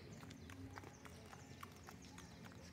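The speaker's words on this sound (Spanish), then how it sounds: "Los caballos de la barriada de Siloé." Horses' hooves clip-clop on pavement in the Siloé neighbourhood, a steady, fairly close rhythm of hollow knocks, faint and alone.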